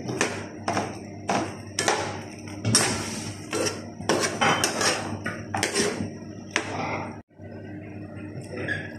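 Shrimp and mushrooms stirred in a pan, a close series of irregular metallic scrapes, taps and clanks of utensil against pan over a faint background hiss, no talking.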